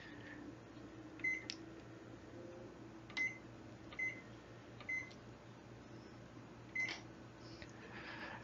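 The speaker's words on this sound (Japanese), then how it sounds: "ここで今から電子レンジを利用します。" A steady low hum of a running microwave oven, with a few faint electronic beeps and clicks popping up at irregular intervals.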